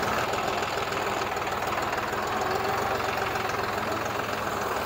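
A Deutz-Fahr Agrolux 50 turbo tractor engine idling, a steady and fairly loud close rumble with even vibration and no talk.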